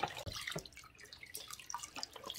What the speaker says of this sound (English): So this is just filtered water. I just put it in here.